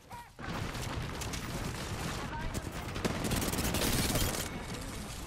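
Rapid bursts of gunfire crackle in an Apex Legends match, dense repeated shots and mechanical clicks running continuously, fairly quiet overall.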